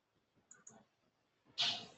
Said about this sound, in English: Click on next.